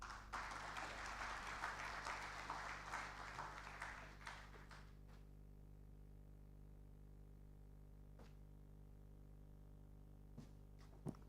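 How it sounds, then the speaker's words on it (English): A workshop audience on digital trade and global marketing claps for about four seconds, the faint applause fading away into a quiet room with a few stray later claps. "I kind of feel that that clap was cold."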